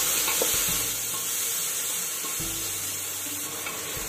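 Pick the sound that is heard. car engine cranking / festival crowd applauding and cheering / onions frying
onions frying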